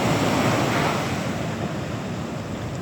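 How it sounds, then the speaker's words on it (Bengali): Sea waves break and wash in a steady roar of surf, loud and close with wind buffeting the microphone, continuous over a few seconds with no talking. "ঢেউটা সামনে তো।"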